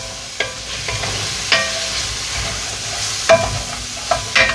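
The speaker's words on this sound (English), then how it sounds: "So we are to let this go about 3 to 5 minutes. Until those onions are wilted down real good." Onions with a bay leaf sautéing in a pan for greens, peas and pork, a constant loud close sizzle broken by several sharp spoon scrapes and knocks, no talking.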